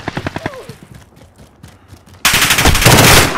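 Automatic gunfire in Call of Duty: Modern Warfare: a rapid burst of loud, close shots at the start, then a short lull with scattered pops. A dense, louder barrage of overlapping fire follows and runs to the end.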